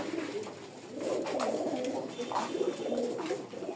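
Pigeons, including red-bordered, yellow-eyed birds kept for flying, coo softly in repeated rolling, throaty phrases, faint and close by with light background noise.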